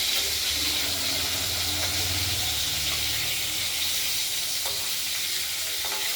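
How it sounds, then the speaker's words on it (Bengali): Pieces of aal fish head, tail and throat frying in oil, a steady close sizzling hiss that runs throughout with faint stirring clicks, no talking. "মাছ দেখতেই পাচ্ছেন, এই অংশগুলোকে আমরা ভেজে নিচ্ছি মাছের।"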